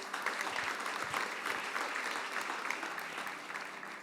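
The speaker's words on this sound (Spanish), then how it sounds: "Regalémosle un fuerte aplauso al Señor." A church congregation gives the Lord a loud round of applause during a worship service in Panama, dense steady clapping filling the room throughout with no voices standing out.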